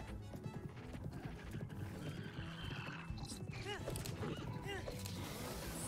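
A horse in Zelda: Breath of the Wild whinnies and its hooves clop along, faint and mixed with game ambience while a person talks over it.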